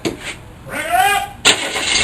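A Subaru car engine cranks and catches near the end of a short stretch, rising into a sudden, loud rumble while a voice calls out before it.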